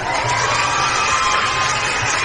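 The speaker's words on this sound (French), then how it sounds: "la foule est en délire" A crowd at a geek convention cheering and shouting, a dense continuous roar of many voices, loud and sustained throughout.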